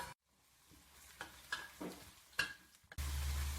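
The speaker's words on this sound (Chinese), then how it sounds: "下入蒜跟干辣椒炒香" Garlic and dried chilies stir-fry in hot lard in a wok with a soft, quiet sizzle, broken by several light spatula scrapes, before a louder steady hum cuts in at the very end.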